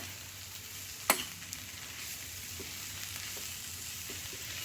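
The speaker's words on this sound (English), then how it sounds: "And give this a quick stir." Shrimp with taco seasoning sizzling steadily in a pan, a soft continuous fry with one sharp clink of a utensil near the start and a few faint scrapes as it is stirred.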